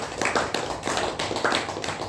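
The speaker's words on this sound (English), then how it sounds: "I would like all of you to clap for Toastmaster Pratap." Meeting audience at a Toastmasters club session applauding a Toastmaster named Pratap: a steady wash of many hands clapping together, moderately loud, continuous and dense with slight swells, no voices over it.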